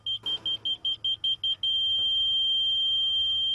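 A rotary laser receiver on a grade rod gives about eight rapid evenly spaced beeps, then settles into a steady continuous tone, near and clear with no talking.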